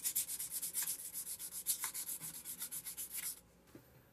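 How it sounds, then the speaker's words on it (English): Guitar frets on a Stewart MacDonald kit guitar being polished with 1000-grit abrasive, giving a steady rapid rubbing and scrubbing in quick rhythmic strokes, close up, that stops abruptly near the end. "Now we need to polish the frets."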